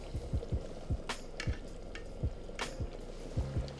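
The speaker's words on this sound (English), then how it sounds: "And just let that simmer for another 10 to 15 minutes." Chicken and sausage gumbo bubbles and sizzles in a pot, with soft repeated thumps and a few bright scraping bursts over a steady low cooking hiss, close and moderately quiet.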